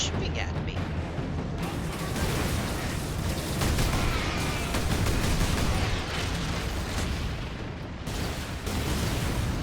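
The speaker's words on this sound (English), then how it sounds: "Who is shooting at me?" Heavy, continuous gunfire and blasts fill a Space Marine video game battle against bloodletter demons, dense bursts rolling on without pause and loud throughout, with a voice speaking over the din.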